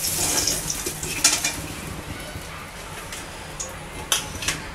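Hilsa fish frying in a pan, a quiet steady sizzle with occasional brief clinks and scrapes of a utensil against the pan.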